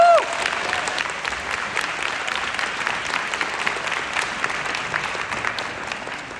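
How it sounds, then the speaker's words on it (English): Steady applause from a room full of people at a nursing ceremony, even and sustained for several seconds after a brief tone at the start, with faint crowd murmur underneath. "please give a round of applause to all of the folks that are in the room"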